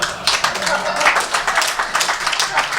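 An audience at a live poetry reading applauds, a dense, steady wash of clapping hands lasting a few seconds, close and fairly loud.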